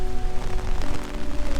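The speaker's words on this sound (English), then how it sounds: "it's raining really hard" Heavy rain pours down in Rome, a dense, close and continuous patter hitting surfaces with no pauses.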